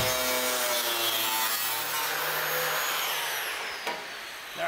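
A saw cuts through the roof metal of a 1933 Roadster during a top chop, producing a loud continuous grinding buzz that tapers off near the end.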